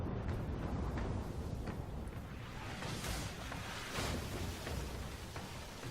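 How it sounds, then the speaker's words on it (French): Video game cannon fire at sea: heavy rumbling booms roll over a constant roar of sea and wind, with deep blasts recurring at intervals. "Donc il nous tire dessus au canon."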